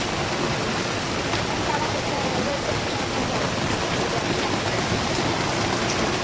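Heavy monsoon downpour pours down steadily over a backyard plot, a dense, even roar of rain that stays constant from start to finish with no voices.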